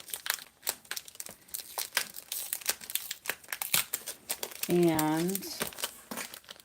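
A plastic wrapper from an embossing folder is slit open and handled, giving close, repeated crinkling and crackling with short crisp bursts, while someone talks over it.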